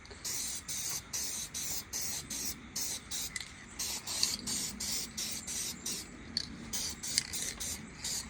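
Short bursts of spray paint hiss onto a model car part, about a dozen close, even passes separated by brief gaps, with no talking.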